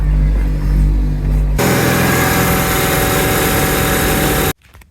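A Toyota Yaris engine rumbles loud and continuous, then cuts off abruptly near the end, leaving near silence.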